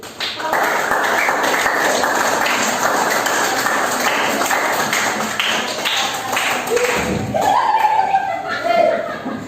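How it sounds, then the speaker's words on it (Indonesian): A classroom group claps together for several seconds, a dense patter of hands indoors, followed by a voice speaking as the applause fades. "sekarang silakan kembali kita beri tepuk tangan untuk kelompok 5"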